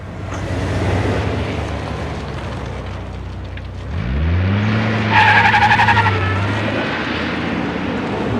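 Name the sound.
car driving and skidding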